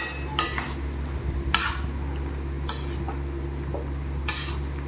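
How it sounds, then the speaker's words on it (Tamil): A spoon scrapes and clatters through a mushroom and pea white gravy in a cooking pan, giving four separate bursts of stirring over a steady low background hum. "எல்லாம் போட்டு ஒரு மிக்ஸ் கொடுத்துக்கலாம்."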